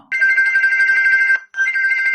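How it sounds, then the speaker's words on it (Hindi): A loud electronic phone ringtone, two sustained bursts separated by a brief pause, close and clear. "डरते हुए जैन ने काइल को फोन किया"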